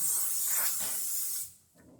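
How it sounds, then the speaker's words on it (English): A steam wand on a Rocket Appartamento heat-exchanger espresso machine hisses loudly and steadily, then cuts off abruptly near the end, leaving faint residual sputter. "Since this is a heat exchanger system, you can steam while steaming."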